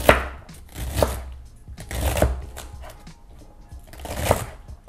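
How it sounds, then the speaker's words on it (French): A kitchen knife chops chard stems into small cubes on a board for a brunoise, with quick bursts of close, crisp cutting strokes separated by short pauses. "on les coupe en petits cubes."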